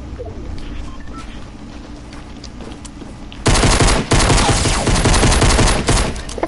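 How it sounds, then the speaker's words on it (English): Fortnite pistol shots crack in a loud, close, rapid volley after a quieter opening stretch of game ambience, the shots continuing in a dense run to the end. "Yo, I melted him with my pistol."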